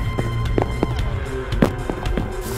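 Sniper rifle gunfire in a video game, a quick series of sharp cracks spaced unevenly over a constant background hum of game sound.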